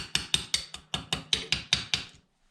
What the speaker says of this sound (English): So we will take our brass hammer here